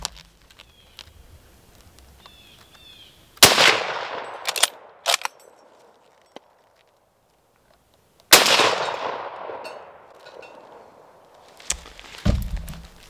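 Ishapore 2A rifle fired at steel targets outdoors: two loud, sharp shots a few seconds apart, each with a long rolling echo, plus a few nearby clanks and handling noises in between.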